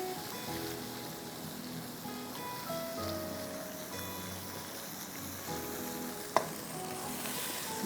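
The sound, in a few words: boiled baby potatoes frying with tamarind chutney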